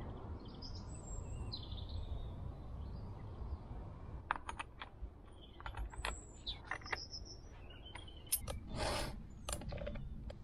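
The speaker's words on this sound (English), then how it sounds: "Hear the birds." Birds sing in a winter woodland coppice where ash poles are being cut, giving scattered, fairly faint chirps and short whistled notes over a low outdoor background rumble.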